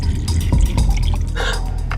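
Water is poured into a glass in a restaurant, a close, bright splashing and trickling that runs for about two seconds with no talking.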